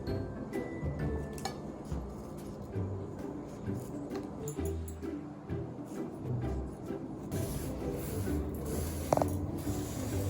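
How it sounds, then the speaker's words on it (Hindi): Kitchen scissors trim the corners off slices of bread while preparing bread pastry. Crisp snips and small mechanical clicks repeat at an irregular pace, close up and fairly quiet. "कैंची ले लें, कैंची से बिल्कुल सीधे काटे जाएंगे।"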